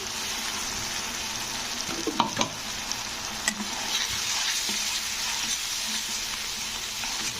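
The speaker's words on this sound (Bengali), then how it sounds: "পেস্টটা দিয়ে একটু নাড়াচাড়া করে দিলাম" Spice paste stirred into a frying fish curry gravy of softened onions in oil gives a steady close sizzle, with a few sharp scrapes and clacks of the spoon against the pan, no speech.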